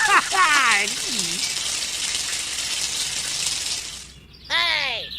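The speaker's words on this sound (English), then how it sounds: "the bad guy pours water into a swamp" Water pours steadily into a swamp in a gushing, splashing stream for about four seconds, then stops. A voice speaks over the start and again at the end.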